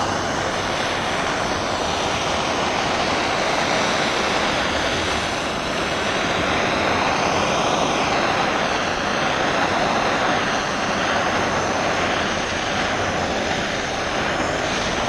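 Torch roaring steadily while heating parts of a 302 small-block engine, a loud continuous broadband hiss and rush with no pauses, close to the microphone.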